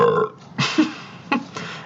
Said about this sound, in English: quick burp session here